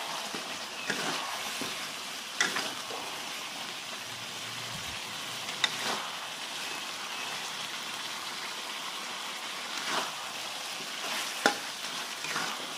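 Spicy chicken feet cooking in a pan are stirred, with a steady soft sizzle and occasional scraping clinks from the utensil spread through the scene.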